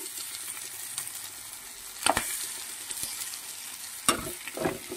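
Pomfret fish frying on a tawa under a cover, a soft steady sizzle with a couple of sharp clanks and scrapes as the pieces are handled.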